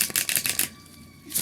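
Oracle cards are shuffled in quick, papery riffles, a short burst of crisp flicking followed by a brief pause and a final flutter, close and fairly loud.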